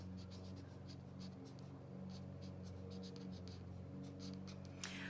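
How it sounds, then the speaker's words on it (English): Pen strokes as an equation is written out by hand for a logarithm lesson, a run of short close scratchy marks and taps over a steady low hum, no talking. "Let me just write that out."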